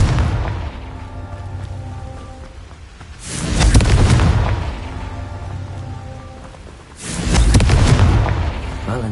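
Blasting curse in the Hogwarts Legacy video game detonating as two loud, rumbling explosions a few seconds apart, each followed by a rushing, rain-like wash of debris.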